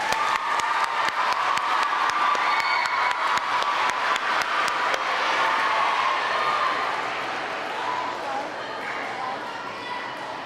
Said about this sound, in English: All right, now let's applaud.